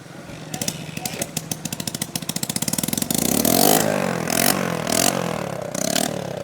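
A Honda Pridor 100cc motorcycle fitted with a 70cc piston and a badly damaged silencer cranks with a rapid series of close starter pulses, then catches and revs up loudly, the engine note rising and falling.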